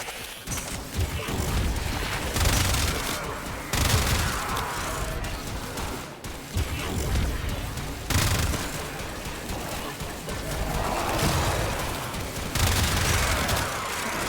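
Sustained gunfire in the sci-fi shooter Warframe, near and loud, a dense rolling barrage of shots and impacts with swelling bursts and brief dips, no voices over it.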